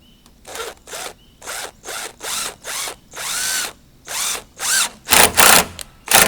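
A power drill drives screws into yellow pine in roughly eleven close, loud bursts, each whining up and stopping with brief pauses between them and no talking.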